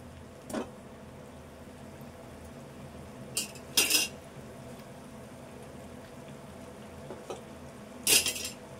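Jaggery arisalu made with wheat flour frying in a pan while being turned, with a few sharp clinks and scrapes of a utensil against the pan at scattered moments over a low steady sizzle.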